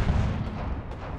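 Artillery bombardment in the video game Apex Legends, a continuous heavy rumble of distant blasts rolling together, loud and low, with no talk over it.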